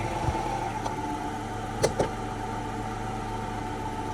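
A race car engine, said to have had a JB Weld repair, idles steadily with a low, even rumble, broken by two brief sharp clicks near the middle.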